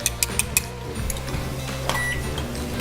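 Four quick keypad beeps on a microwave oven are followed by the steady hum of the microwave starting to run.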